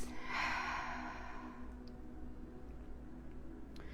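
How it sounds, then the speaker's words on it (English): A slow, deep exhale released close by, a soft breathy rush that fades gradually into quiet room tone during a calming meditation. "Taking a deep breath and releasing"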